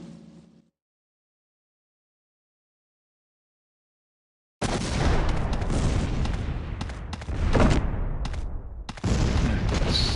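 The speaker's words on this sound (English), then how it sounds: "So the explosions are going off, but this place is still intact" Explosions in the Resident Evil: Code Veronica video game, a dense, loud run of booms and blasts that starts abruptly after a short faint opening and a long silence, then keeps rumbling and cracking to the end.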